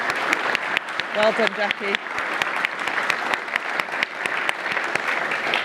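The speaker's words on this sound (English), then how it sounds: "we're going to clap" An audience claps at an award event for the Glossop Medal and Award, with steady, dense applause throughout and a brief spoken congratulation heard over the clapping.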